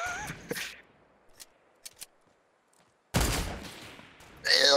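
Gunfire in Fortnite, a few sharp scattered shots followed by a louder burst of rapid firing, some faint clicks between, with brief bits of other game sound.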